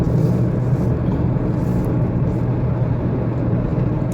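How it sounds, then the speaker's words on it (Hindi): A car heads toward the motorway with a steady, loud low engine and road rumble from inside the vehicle, constant and unbroken throughout. "मैं इस वक्त गाड़ी में निकल आया हूँ मोटरवे की तरफ"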